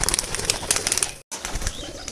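Madras fancy pigeons in a loft give dense fluttering and rustling with wingbeats and faint calls, close and busy, cut by a brief silent gap midway before the activity resumes.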